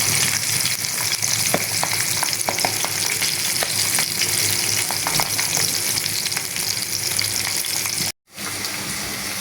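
Pabda fish frying in hot oil in a kadai until red and crisp, a loud, dense sizzle with occasional crackles that cuts out for a moment near the end.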